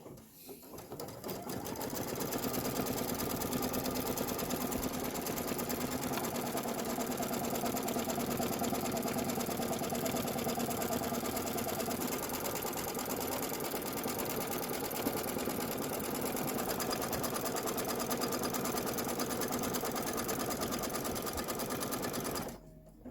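A Kimberbell embroidery machine stitches a tack-down layer on a fire station design, running steadily and loudly for about twenty seconds with a dense, even mechanical whir, close by and with no talk.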